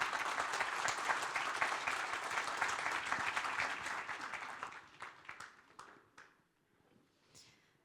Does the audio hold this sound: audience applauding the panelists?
yes